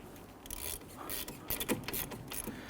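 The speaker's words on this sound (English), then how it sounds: "We want to use a number 11 Allen key on these here. Go ahead and spin that right out and do the same for the top." Ratchet with a number 11 Allen key socket spinning out the brake caliper bolts on a 2011-2021 Jeep Grand Cherokee front brake, a close, steady run of fast metallic clicking with a few brief louder clacks.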